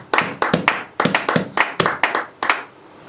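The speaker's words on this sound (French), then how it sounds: "On acclame très fort pour la gloire de notre Seigneur." A church congregation claps loudly in praise, irregular bursts of many hands striking together in quick clusters, close and full, with no talk over it.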